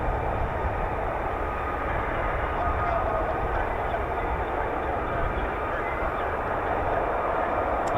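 An F-35B stealth jet taxiing, a constant broad engine roar and whine held steady and fairly loud with no change across the whole stretch.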